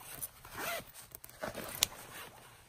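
Zipper on a JuJuBe Hello Kitty bag pulled in several short, quick strokes up close, each a crisp rasping zip separated by brief pauses, quiet and isolated with no talk.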